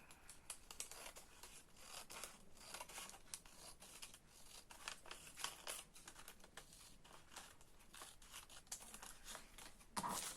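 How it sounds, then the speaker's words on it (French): Scissors snip through a paper doily while making a simple angle craft with children, a steady run of close, crisp cutting and crinkling clicks filling the whole stretch, with no voices. "Allez, on coupe le napperon"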